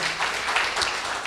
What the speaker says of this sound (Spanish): Denle un aplauso, por favor, a nuestro Señor